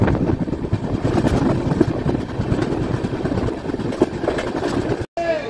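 A moving passenger train heard from inside near a chair-car coach gives a dense, loud, rumbling roar with rattling clatter throughout, with no voices.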